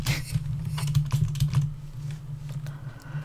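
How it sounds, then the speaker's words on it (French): Computer keyboard keys pressed in quick, uneven bursts during play of Tomb Raider II on PC, close and fairly clear over a steady low hum, with the clatter thinning out toward the end. "C'est très hasardeux le clavier"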